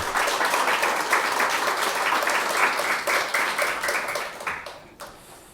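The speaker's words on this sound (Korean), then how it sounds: "우리 하나님께 감사와 영광의 박수 올려드리겠습니다" A church congregation claps together in thanks during a Sunday worship service, a dense, steady wash of many hands that thins out and fades near the end.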